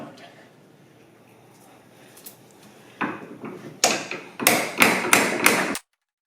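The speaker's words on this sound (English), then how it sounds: "Tapping on these bolts, and we're going to have to kind of go side by side" Tapping with a tool on the brake caliper bolts of an NC Mazda Miata while a StopTech Competition brake kit is installed, quiet at first, then a run of sharp, close, evenly spaced knocks.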